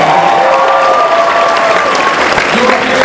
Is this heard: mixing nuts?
no